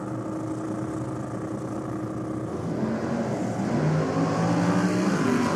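A drag race motorcycle runs at the drag strip, its engine a distant, sustained roar that builds and grows louder in the second half, with no voices.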